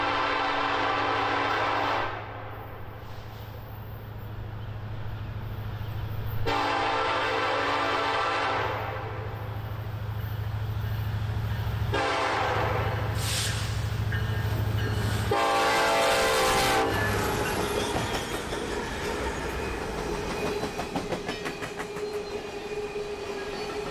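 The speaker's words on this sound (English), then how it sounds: "We have an empty coal train to catch." An empty coal train rumbles past at close range, its horn sounding in several long blasts between stretches of steady rolling noise and clattering wheels.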